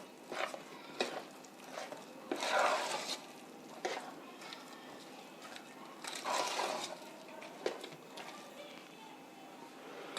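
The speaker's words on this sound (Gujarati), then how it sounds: "બધી વસ્તુને એકદમ બરાબર મિક્સ કરી દઈશું" A shrikhand mixture being stirred and mixed, with intermittent scraping and swishing strokes in uneven bursts, fairly close and moderately loud, with several stronger passes.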